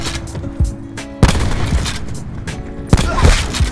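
Sniper rifle fire in Call of Duty, with loud booming shots at the start and two more heavy blasts later, each trailing into reverberant rumble, set over steady game ambience and music.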